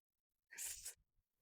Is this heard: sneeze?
yes